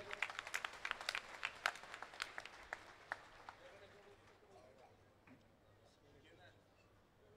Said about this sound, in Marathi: सर्वांनी एकदा जोरात टाळ्या वाजवायच्यात.